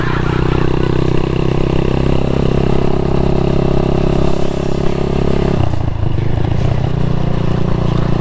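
A motorcycle on standard ignition climbs an uphill road, its engine droning loud and steady throughout with a constant rumble and a brief dip in tone near the end.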